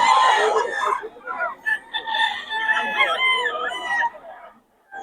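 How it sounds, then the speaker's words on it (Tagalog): A rooster crows nearby at a predawn market in Bocaue, in a long, ragged, strained call, followed by a shorter crow before it falls quiet. "So, so, mga manok ni Boss Tony mga idol."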